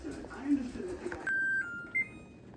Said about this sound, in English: All right, so our timer has gone off.